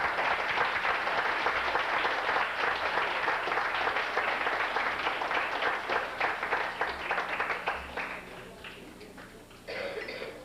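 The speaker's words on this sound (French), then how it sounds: "Une bonne main d'applaudissement pour Julie, s'il vous plaît." Wedding reception guests applaud as a speaker is introduced to address the couple, a dense sustained round of clapping that gradually thins and fades, with a brief cough or murmur near the end.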